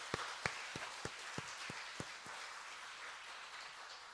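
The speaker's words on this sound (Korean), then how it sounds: "우리 박수로 뜨거운 감사의 찬양하겠습니다" A church congregation at a Sunday service claps in thanks, sparse and fairly faint: a handful of distinct claps near the start that thin out and fade into a soft room murmur.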